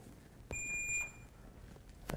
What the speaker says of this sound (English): So there we heard it change, we heard a beep